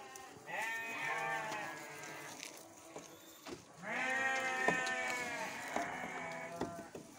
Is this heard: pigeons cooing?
no